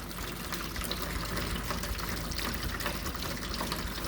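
Water drains steadily from a hot water tank being flushed of calcium and sand deposits, a continuous rushing, gushing stream heard up close and alone with no breaks.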